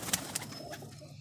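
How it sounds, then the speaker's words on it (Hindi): Lakhi breed pigeons coo briefly and faintly against a quiet background, with a couple of sharper clicks early on and no voices. "ये शौक करें जी मेरे कबूतरों का, लाखी ब्रीड का।"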